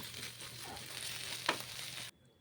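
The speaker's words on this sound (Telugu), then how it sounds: "సిమ్లో పెట్టి వేయించేసుకుందాం" Aloo masala gently frying in a pan over a low flame gives a soft, steady sizzle close by, with one brief stirring scrape partway through before it cuts out.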